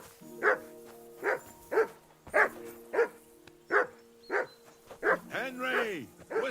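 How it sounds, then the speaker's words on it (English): Repeated barks from a dog in a role-playing video game, about ten sharp yaps at a steady beat, ending in a drawn-out whine, with a low background hum throughout. "Whistle at that mutt of yours to stop barking!"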